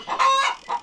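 A rooster among domestic hens on a farm gives a loud, close crow with a harmonic tone, followed by a shorter squawk, all within under a second.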